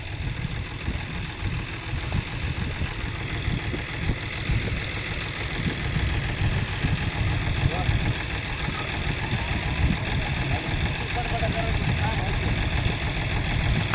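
Tractor engine idling on a farm, a low continuous chugging rumble that stays steady, with faint background sounds over it.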